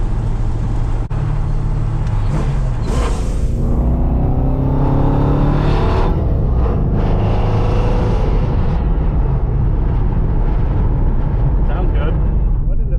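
A 1968 Oldsmobile 442 engine drones loudly from inside the car, its pitch climbing as it accelerates and shifts up through the gears, with voices talking over the steady engine noise.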